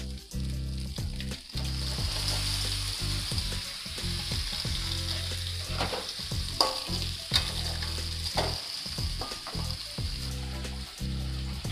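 Chicken fries in a fragrant spice paste for semur ayam, with a loud, constant sizzle and hiss and repeated stirring and scraping in the pan, close by with no talking.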